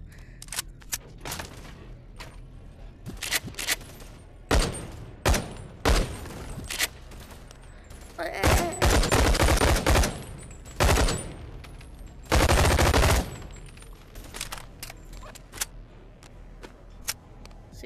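Bursts of gunfire in the VR video game Bone Lab, mixing quick automatic volleys and single loud shots spread unevenly across the clip, with brief quiet gaps between them.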